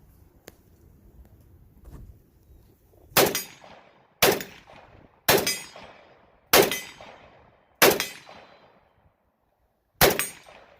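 Six sharp gunshots from a rusted AK rifle with missing parts and no muzzle crown, fired one at a time at irregular intervals with short echoing decays, loud and close, after a few seconds of quiet handling.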